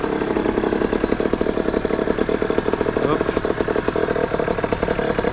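A freshly repaired 50cc moped engine, on its first start, idles with a steady, rapid putter, close and loud, while someone speaks briefly over it.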